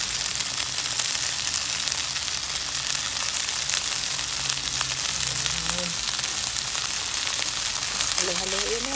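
Chicken feet adobo fries in a pan, seasoned with salt and pepper, giving a continuous close sizzle while it is stirred, with faint background sounds.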